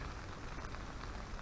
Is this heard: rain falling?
yes